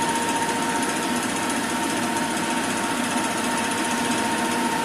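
A Siemens 808 CNC lathe runs steadily with a dense, even mechanical whine and a thin high tone, loud and close with no pauses.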